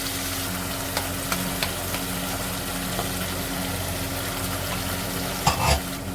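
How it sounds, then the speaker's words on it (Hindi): Beef pieces browning in a pot with yogurt mixed with achar masala for achar gosht, a steady broadband sizzle with occasional soft stirring knocks and a louder scrape near the end, no voices. "ये भी इसी में डाल देंगे और दही खुश्क होने तक गोश्त को भून लेंगे"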